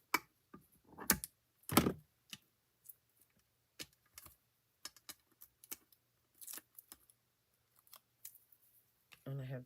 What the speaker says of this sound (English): I can just cut a piece off. I want that piece there. And then snip it.